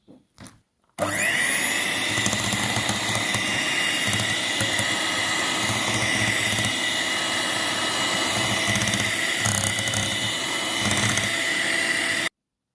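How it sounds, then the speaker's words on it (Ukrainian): An electric mixer beats sour cream and dry ingredients into cake batter for a sponge cake, a steady loud whirring drone that starts abruptly after a brief clatter and runs unbroken until it cuts off. "І все це теж збиваємо міксером."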